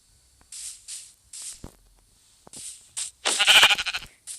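Several short sheep bleats from the video game Minecraft, separated by pauses, ending in a louder burst of bleating with a hissy edge.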